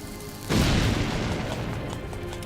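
A bomb explodes in Zelda: Link's Awakening: a sudden, loud burst bursts in after a short quiet stretch, then a dense rumbling tail that slowly fades.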